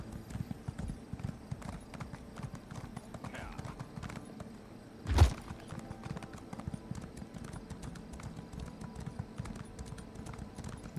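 Steady hoofbeats of a horse ridden through a town in Elder Scrolls Online, a continuous game clip-clop rhythm with one brief louder thump midway and speech heard over it.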